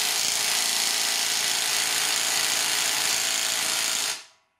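A Ferrex Pro brushless impact wrench unscrewing, a loud close continuous rattling hammer-whir lasting about four seconds before cutting off and fading quickly to silence.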